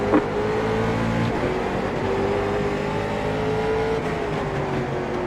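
Late model and super late model race cars accelerating around Lanier in the iRacing sim, a steady loud roar of several engines with rising and falling pitch, close and continuous throughout, with no talking.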